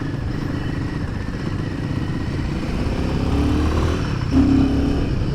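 A Royal Enfield Himalayan 450 motorcycle cruising in third gear, its engine giving a steady low drone under wind rush, with a brief louder rise in revs near the end.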